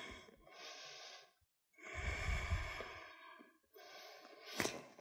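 A deep breath during yoga practice in a studio: a long inhale, a pause, then a fuller, louder exhale and a final breath with a sharp airy release, close and alone.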